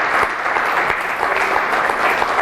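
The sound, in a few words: congregation applause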